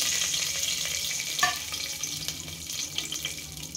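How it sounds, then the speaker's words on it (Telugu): Cinnamon and whole spices crackle and sizzle in hot oil over a low flame while cooking bagara rice, a steady close frying hiss with a brief sharper pop midway. "ఆయిల్ వేడెక్కిపోయిందండి. ఇప్పుడు పట్టా మొగ్గ స్లో ఫ్లేమ్లో పెట్టుకోవాలండి, లేదంటే మాడిపోతుంది."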